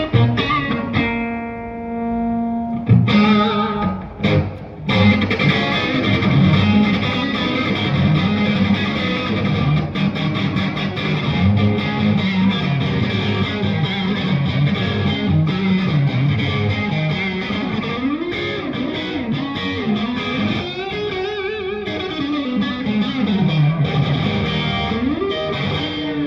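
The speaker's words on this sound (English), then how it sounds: "So you can get a decent amount of distortion out of the crank circuit." Electric guitar played through a distortion pedal into a cranked amp, loud and continuous with heavy sustained chords and lead lines running throughout, no talking.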